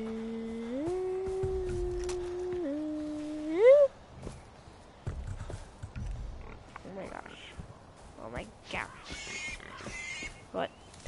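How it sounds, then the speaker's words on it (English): Pigs in the Far Cry 4 video game grunt and squeal in short bursts over a sustained in-game tone, with a few sharp game sounds and occasional talk. "Pigs, or whatever these are."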